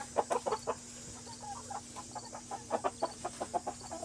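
A backyard flock of chickens clucks in short, uneven bursts of close, moderately loud clucks, alone over a faint steady background hum.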